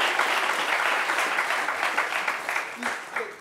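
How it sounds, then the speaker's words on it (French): A studio audience on a midday talk show gives fairly quiet, sustained applause that thins toward the end, with scattered individual claps standing out near the close. "applaudissez un peu en fond des gens."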